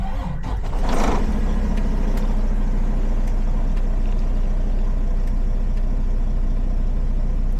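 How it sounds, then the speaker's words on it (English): A truck's engine idles steadily through its safe start procedure while air pressure builds toward the governor cutoff, giving a constant low rumble with a brief hiss near the start. "Letting the truck run through its safe start procedures."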